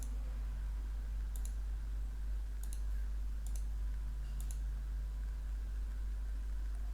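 A computer mouse clicks a handful of times, crisp single and double clicks spaced a second or so apart over a steady low electrical hum, while Windows 11 start menu settings are changed.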